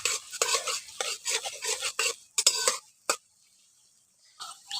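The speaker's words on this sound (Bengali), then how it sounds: "পেঁয়াজটাকে একটু ভেজে নিচ্ছি" Scraping stirring strokes and a light sizzle of chopped onions frying in oil come in quick bursts, then fall silent before one last scrape near the end.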